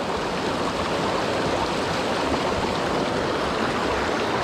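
A muddy stream flows close by with a dense, steady rushing hiss that does not let up, no voices present.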